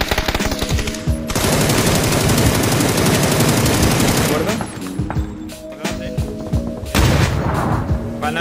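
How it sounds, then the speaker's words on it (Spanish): Gunfire in the video game PUBG rattles in dense automatic bursts, loud and close, with a long sustained volley followed by shorter shots and a final burst; a player talks over parts of it. "He matado a uno del aeroplano, me están disparando no sé ni de dónde."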